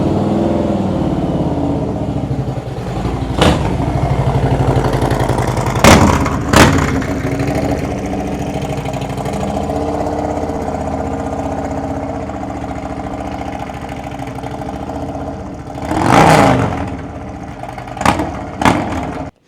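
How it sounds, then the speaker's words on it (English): Motorcycle fitted with a Tab Performance Redline Series 2-into-1 exhaust and header idles with a steady low rumble, broken by several sharp throttle blips and revs, loud and close, with no talking. "So this motorcycle sounds phenomenal."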